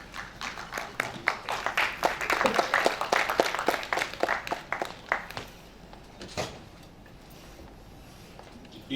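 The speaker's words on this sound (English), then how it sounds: "Let us clap." An audience at a national small-business convention claps, starting as scattered hand claps that swell into brisk applause for several seconds, then thin out to a few isolated claps before fading to quiet.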